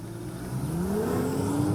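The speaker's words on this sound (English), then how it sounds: "But what about that engine? Sounds good, doesn't it? Rich, loud and sonorous." A BMW straight-six engine in a 2016 BMW M2 revs with a rising, rich tone, loud and close, building steadily in pitch over a couple of seconds with no talking.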